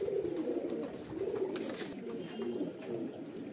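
Pigeons of the Kalsira, Bajra, Chhapdar and Uda types kept for sale coo steadily and close by, their low throaty calls overlapping and rolling on without a break.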